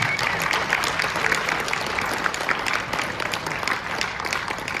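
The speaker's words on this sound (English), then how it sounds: "How about one more round of applause for all 32 candidates?" A luncheon room full of people applauding candidates at a forum, dense steady clapping that stays loud and even throughout with no talking above it.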